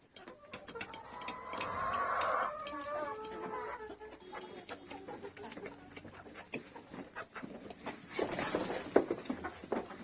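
Chickens clucking as they feed in the morning, mixed with other fowl, sounding as a steady close-range murmur of clucks and short calls with voices talking nearby.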